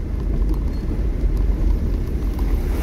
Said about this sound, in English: Ah, tractor!